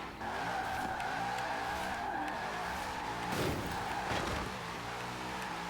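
Tyres skid and squeal under a revving engine as a car drifts in the racing game Forza Horizon 4, a steady sustained whine with a louder burst near the middle.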